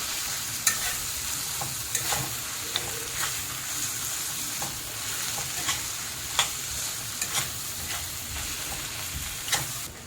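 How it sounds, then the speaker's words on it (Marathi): Tomato and onion sauté in a pan with homemade masala and salt. A soft, steady sizzle runs underneath while a spatula scrapes and stirs in repeated sharp strokes every second or so. No voices. "हे बघा चांगलं व्यवस्थित टोमॅटो कांदा परतून झालेला आहे"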